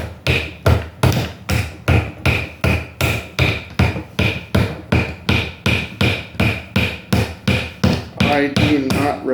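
A Gordon pocket knife with a 2.9 inch blade is driven through wood by a baton, giving loud, steady, evenly spaced thuds, about twenty-five hard close strikes with no talk.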